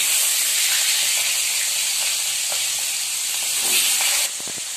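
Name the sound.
fish head frying in oil in a wok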